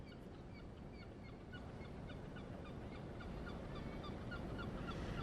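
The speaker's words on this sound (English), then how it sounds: "it is so quiet that we can actually hear a bird in the background" A bird calls faintly in the background of a quiet night scene in Sherman Park during riot coverage, giving a repeated series of short honking notes over a low steady hum.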